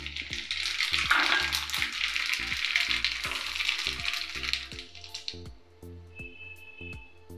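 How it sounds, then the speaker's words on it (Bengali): Mustard seeds hit hot oil and sizzle hard and loud for several seconds, then the frying fades to a quieter crackle, with regular low thumps underneath. "এবার আমি সর্ষেটা দিয়ে দিচ্ছি।"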